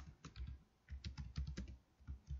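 Soft, quick keystrokes on a computer keyboard patter in uneven bursts, fairly quiet and close, with no voices.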